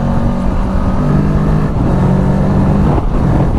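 Kawasaki Ninja 650 motorcycle engine droning loud and close while riding, with brief dips in the roar as it shifts up without the clutch, steady wind rush throughout.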